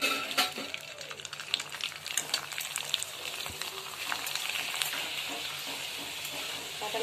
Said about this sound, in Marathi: इथं मी नाचणीचे पापड तळते.